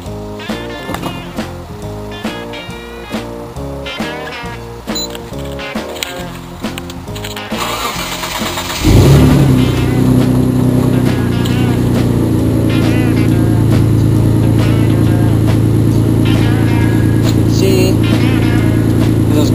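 A flash-tuned 1999 Mitsubishi 3000GT VR-4 with 16T turbos cranks with an uneven starter churn for several seconds, then catches at about nine seconds and settles into a loud, steady cold-start idle close by.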